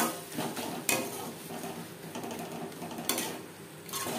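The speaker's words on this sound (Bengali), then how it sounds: "তেলের সাথে টমেটো বেশ ভালো করে মিক্সড করে দেব।" A spoon stirring sliced tomato into fish oil and onions in a pan, clattering and scraping against the metal in uneven bursts, close and fairly loud, with no voices.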